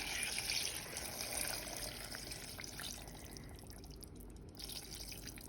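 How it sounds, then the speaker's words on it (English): Pork broth being poured into a pot of red chili for tamales, a faint, steady liquid trickle and splash heard close, fading slightly toward the end. "where we cooked our meat, the broth, let's go ahead and add it"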